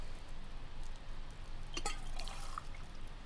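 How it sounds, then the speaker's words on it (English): Water pouring and dripping into a cup inside the video game The Silent Age, a short splashy trickle of liquid, fairly faint, with a brief burst of pouring in the middle. "let's fill this cup up with some of this water"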